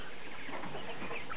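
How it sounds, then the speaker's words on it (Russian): Quails newly moved into a cage cluck and chatter in a soft, dense flutter of calls over a constant background noise. "Ну вот, переселил сюда птичек."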